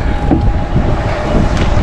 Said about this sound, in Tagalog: Inabutan tayo ng malakas na ulan.